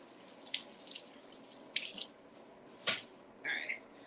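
Running tap water splashes over vegetables being rinsed at a kitchen sink, a close, fluctuating stream with bursts and drips and no talking.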